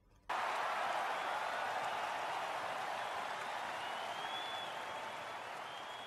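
A video game arena crowd in Kingdom Hearts bursts into loud, sustained cheering and applause. The roar starts abruptly and holds steady, fading only slightly toward the end, with no talking over it.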